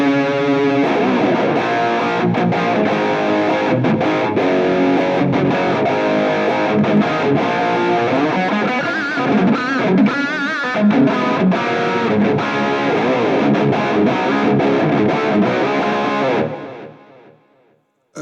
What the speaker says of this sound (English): So third preset is dual rec.